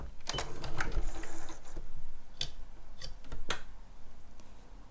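A sewing machine back-stitches the seam of a zip tote bag in short, close mechanical bursts of needle clatter separated by brief pauses, with sharp clicks between runs.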